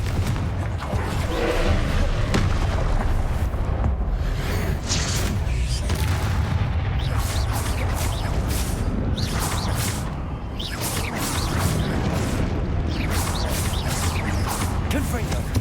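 Fiery blasting-spell explosions in the Hogwarts Legacy game boom and crackle continuously, with loud dense bursts, whooshes and clattering debris, under a constant wash of battle noise.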